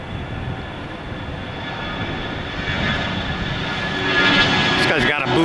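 Jet airliner engines, a Boeing 767-400 turning after takeoff at Tampa in heavy rain, give a broad, steady roar that grows louder toward the end, with a voice talking over it.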